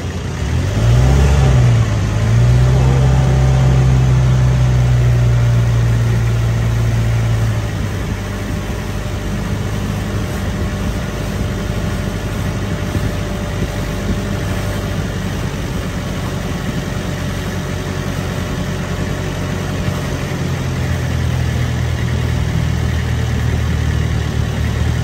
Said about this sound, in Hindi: अब हमारा स्टार्ट हो रहा है भाई बोट, ठीक है, गियर पलटा, गियर पलटाया है, अब हम जा रहे हैं सीधा।